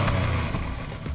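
A 2017 Genesis G80 Ultimate AWD with a 3.8-liter 311-horsepower V6 and 8-speed transmission, heard as a steady, fairly loud engine and road drone while cruising, without talk.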